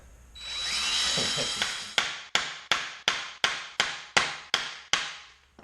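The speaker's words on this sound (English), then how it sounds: "you just kind of put the drill in here and let it eat" A drill whines briefly while drilling out a wheel stud on a second-generation Toyota Tacoma, then a sharp metallic impact repeats about ten times in a steady rhythm, loud and close.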